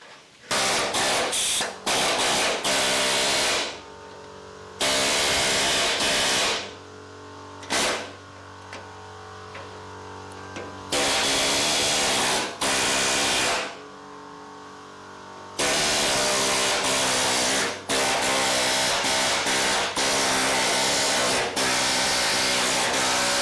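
An air chisel cuts through the metal floor pan of a VW Beetle, hammering in loud, rapid bursts of several seconds each with brief gaps between them.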